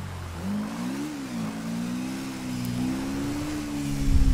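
A Honda XRE 300 motorcycle in GTA V hums along at a steady mid-pitched engine drone that rises and dips slightly with the throttle, then swells louder near the end.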